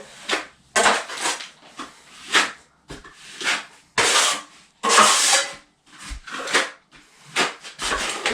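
A plastering trowel scrapes and rubs wet plaster into a wall against a metal stop bead, in short repeated strokes with brief pauses between, close and fairly loud, with no talking.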